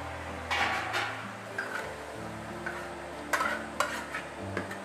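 Eggplant and soybeans being stir-fried with homestyle bean paste in a wok, a soft steady sizzle with a spatula scraping and clanking against the metal every second or so, close up.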